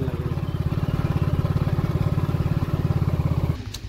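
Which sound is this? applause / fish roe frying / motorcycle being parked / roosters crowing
motorcycle being parked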